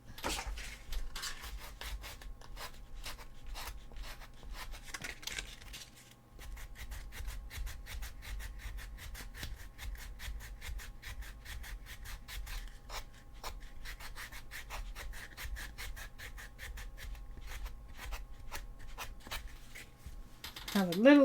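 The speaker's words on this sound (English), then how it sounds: "sanding, make it less rough." Rhythmic rasping strokes of sandpaper rubbing a wooden cosplay prop to smooth it, repeated back-and-forth scrapes at close range with brief pauses, and voices now and then alongside.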